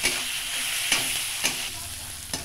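Prawns sizzle in a frying pan with greens, a steady bright hiss of hot oil broken by a few sharp clicks of a spatula stirring at regular intervals, close and clear.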